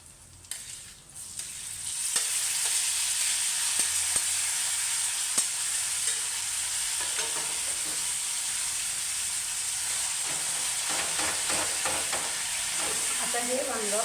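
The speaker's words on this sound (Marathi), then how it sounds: "आता हे वांगं या फोडणीमध्ये खूप छान परतून घ्यायचं आहे." Roasted eggplant tipped into a hot, spiced tempering sizzles steadily in the pan, a close, continuous frying hiss with stirring scrapes, building after a quieter first two seconds.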